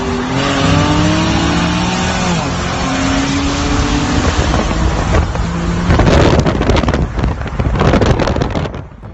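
An all-wheel drive Infiniti G37 sedan with a muffler delete racing, its loud raspy exhaust climbing through the gears with rising tones, wind buffeting the microphone and a faint voice toward the end.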